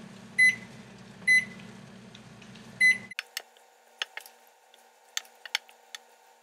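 Three short electronic beeps from a microwave keypad, then a series of soft clicks and taps as buttons are pressed, close and otherwise quiet.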